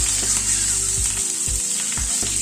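Eight to ten cherry tomatoes frying in a pan over a lowered gas flame give a close, steady, bright sizzle with low rhythmic thumps from the pan being shaken or tossed.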